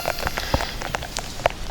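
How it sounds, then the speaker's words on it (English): Heavy rain falling steadily outdoors, a dense wash of patter with sharp individual drops striking close by, loud and continuous with no voices. "Keep in mind this is in the rain. It's actually coming down pretty good now"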